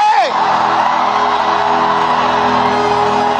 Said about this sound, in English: Scream it out.